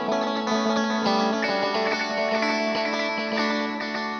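Electric guitar played through an MXR Joshua Ambient Delay pedal, chasing a signature delay tone: sustained chiming notes with lush repeating echoes and shimmering ambience, steady and full throughout with no talking.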